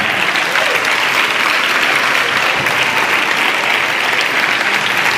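A concert audience applauds a pianist at a school choir tribute concert, a dense, steady wash of clapping that holds at full strength throughout without pause.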